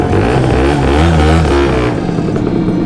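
A Honda NS-1 two-stroke 50cc motorcycle revs hard close by, its engine note climbing and wavering as the clutch is slowly let out, then settling as it pulls away, loud throughout.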